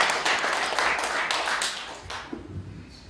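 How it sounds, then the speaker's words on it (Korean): Church congregation clapping at a thanksgiving service, a dense close round of applause that thins out and fades after about two seconds, with a voice starting faintly near the end. "우리 먼저 주님께 영광의 박수 먼저 올려드립니다"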